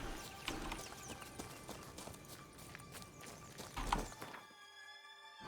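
Roach, the horse in the video game The Witcher 3, trots in a steady run of close clip-clop hoofbeats that cut off abruptly near the end, with no talking over them.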